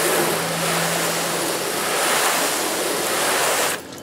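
Water sprayed in a strong, continuous hiss onto a car's painted panel and sheeting off, loud and close, cutting off abruptly near the end.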